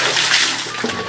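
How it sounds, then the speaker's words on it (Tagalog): Water splashes and gushes steadily from a hand pump during an outdoor bath, a loud, dense, continuous wash of spray with a few small sloshes and no talk. "Shower tayo maliligo. Siyempre, yung sa poso."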